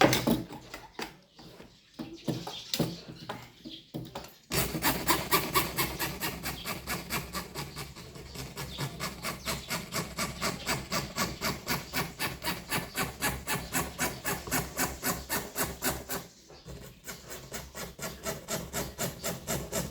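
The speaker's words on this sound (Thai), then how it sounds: "เลื่อยแม่นๆนะครับ เลื่อยให้แม่นๆมันจะได้ไม่ต้องแต่งเยอะ" A fine hand saw cutting in steady, rapid back-and-forth strokes, close by, after a few slower rough strokes at the start, while making a waterproof amulet case.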